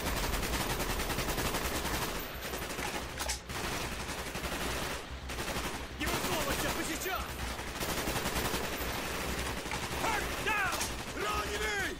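Gunfire in the Call of Duty: Black Ops campaign, with dense, sustained shooting running through the whole stretch and only brief dips between volleys, set within a loud, busy battle mix.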